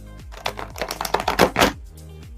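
Tarot cards being shuffled by hand, a quick run of soft riffling bursts and papery flutters, close and fairly quiet with no talk.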